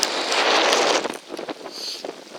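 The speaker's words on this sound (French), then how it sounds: "Et ici, le vent, la drache, voilà." Strong wind with heavy rain buffets the microphone outdoors, a dense roaring rush at first that breaks up after about a second into choppier gusts and scattered patter, with no one speaking.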